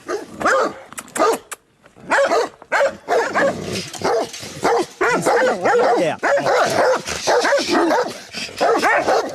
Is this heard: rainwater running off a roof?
no